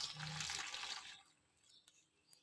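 A cup of water splashes into a bowl of flour and salt for samosa and roll pastry batter, a brief close gush lasting about a second before fading to faint drips.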